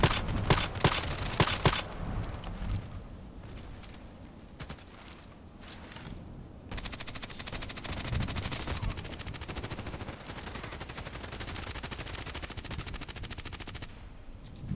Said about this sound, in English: Why is he shooting at me already?